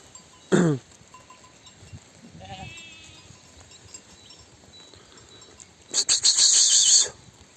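Lambs and ewes out at pasture give sharp bleats, one short call near the start, a fainter one midway, and a loud burst of several overlapping bleats toward the end, with quiet open-air background between.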